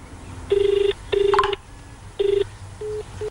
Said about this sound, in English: We tried calling the board number of Max Hospital